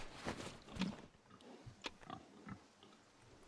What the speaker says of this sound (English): Hey, pigs, move, move, move,